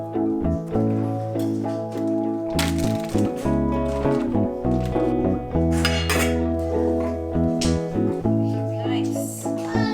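Pots, dishes and cutlery clatter and clink in a home kitchen while curry is warmed in a pot and rice is cooked, sharp close metallic knocks scattered over about ten seconds.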